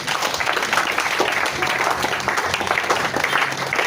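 A church congregation breaks into sustained applause during a French-language sermon, a dense wash of clapping hands filling the room from start to finish with some voices mixed in.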